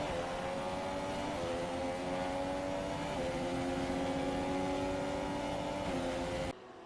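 Race cars in an F1 video game at the Mexican Grand Prix scream past in a steady, loud engine drone with shifting harmonic tones, the roar continuing alone for about six seconds before dropping abruptly near the end.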